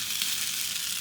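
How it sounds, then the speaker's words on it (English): Paneer and peppers sizzle in a hot cast iron sizzler pan, making a bright, steady hiss of frying that is close and continuous. "And we're just going to let that sizzle away."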